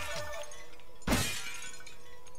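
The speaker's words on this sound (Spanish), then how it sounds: "Tengo que romper los cristales para coger los cristales rotos para obtenerlo." Glass windows shatter in the video game Slayers X: Terminal Aftermath, a single loud bright crash about midway that rings out briefly over steady game background noise.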